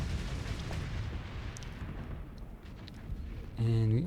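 Flashbang explosions in the space game Starsector, a continuous rumbling roar of distant blasts with scattered crackles, ending in a louder tonal burst.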